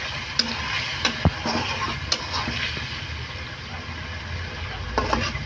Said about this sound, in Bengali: পানি দিয়ে এখন ঢাকনা দিয়ে একটু সেদ্ধ করে নেব